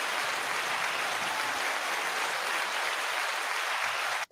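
A button-triggered applause sound effect plays, a steady, loud wash of crowd clapping that runs without a break and cuts off abruptly at the end.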